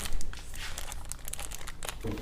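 Plastic bag packaging around a car Android head unit crinkling and rustling continuously up close for a couple of seconds, no talk.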